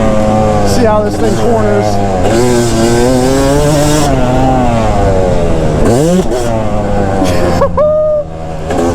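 Yamaha YZ250 two-stroke dirt bike ridden on a track, its engine screaming loud and close with rising and falling revs through the corners, while a rider talks over it.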